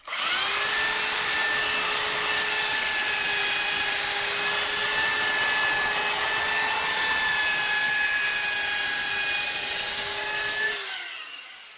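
A belt sander fitted with a coarse 40-grit belt runs over plaster, its motor whining at a steady pitch with scraping grit noise for about ten seconds before it spins down and fades.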